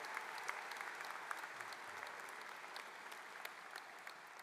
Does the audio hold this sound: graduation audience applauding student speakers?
yes